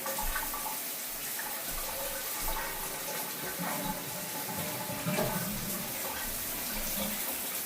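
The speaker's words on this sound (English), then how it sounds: "I'm going to turn on the shower and flush the toilet just so we can check the water pressure" A shower runs and a toilet flushes together in a home bathroom, giving a steady, broad rush of water with slight surges, fairly close and with no talking.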